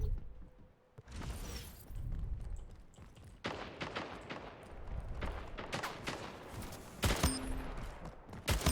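Rapid gunfire from the golden gun in the video game Splitgate, with dense repeated shots and impacts running almost continuously at moderate volume, with no talk.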